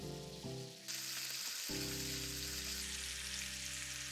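Mochi frying crisply in a pan for a Japanese New Year soup: a steady close sizzle that surges louder after a brief drop, over a low hum, with no voices.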